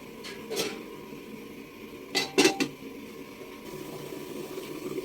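A lid set on a pot of simmering fish curry, a couple of close metallic clanks and rattles over a quiet bubbling, hissing background.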